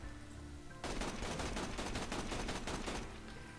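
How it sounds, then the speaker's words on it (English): Sustained automatic fire from the regular Bandit assault rifle in Borderlands 2 starts abruptly as a rapid, rattling stream of shots, loud and continuous for about two seconds before cutting off. "I'm just going to shoot the regular Bandit assault rifle"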